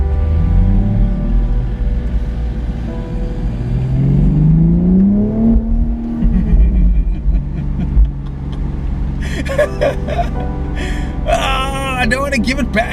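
A 2019 BMW Z4 M40i engine revs while driving around Cape Town, with rising and falling pitch sweeps that are loud and continuous, and people talking over it throughout.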